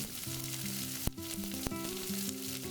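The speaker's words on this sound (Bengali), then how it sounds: "এবার কেটে রাখা পেঁয়াজ কুচোগুলো দিয়ে দিচ্ছি।" Chopped onions hitting hot oil with ginger already in the pan, giving a steady close sizzle with a couple of sharp clatters, all under a melodic background tune.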